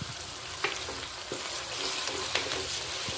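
Chopped tomatoes drop into a hot, sizzling pan of dhokli curry, giving a steady close frying hiss with a few sharp crackles and stirring clicks throughout.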